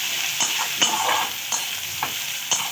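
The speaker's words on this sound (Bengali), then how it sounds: "পেঁয়াজগুলো একটু ভাজা ভাজা করে নেব।" Chopped onions, two medium ones, fry in a pan for a cauliflower dish, with a steady hiss and regular scraping strokes of stirring about every half second, close and fairly loud.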